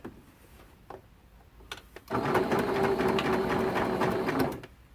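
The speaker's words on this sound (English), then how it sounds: "Put that through the machine, and then I can separate my block" A sewing machine stitches T-shirt quilt blocks, beginning with a few light clicks and handling sounds, then a steady rapid whir of stitching for about two and a half seconds before it stops.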